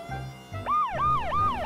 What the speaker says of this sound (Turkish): İçinden itfaiye arabası çıktı.